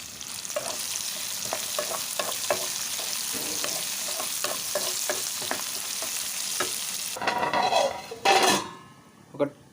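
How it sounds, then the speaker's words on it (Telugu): Onions and garlic fry in oil with a constant close sizzle, broken by repeated spoon scrapes and taps against the pan and a louder burst of stirring near the end. "వెల్లిపాయలు వీటన్నిటినీ మంచిగా అయితే ఆయిల్లో ఫ్రై చేసుకోవాలి"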